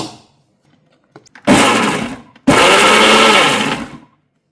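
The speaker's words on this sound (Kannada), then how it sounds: "ಇನ್ನೊಂದು ಸ್ವಲ್ಪ ಹಾಕ್ಬಿಡ್ತೀನಿ ಮಿಕ್ಸಿಗೆ." A kitchen mixer grinder blends soft tomato chutney, North Karnataka style, in two loud, close bursts of whirring motor noise. Each burst lasts about a second, with a short pause between them, and no one speaks.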